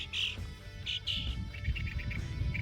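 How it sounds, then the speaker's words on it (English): A small bird sings outdoors at a historic battleground monument park, a few bright high chirps and short phrases over a low rumbling background, fairly close and clear. "a little bird singing us a melody"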